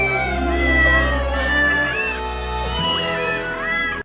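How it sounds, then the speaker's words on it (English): Cats meow loudly in the opening of a film soundtrack about an FBI cat: several overlapping, drawn-out wailing meows that rise and bend in pitch, sustained throughout. "The film opens with the sounds of every cat tortured in the making of this production."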